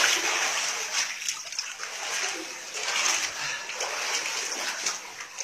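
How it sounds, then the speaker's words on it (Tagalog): Water is poured out and splashes steadily onto the ground at an outdoor digging site, a continuous hissing splatter with faint background voices. "Bus-busan yung tubig."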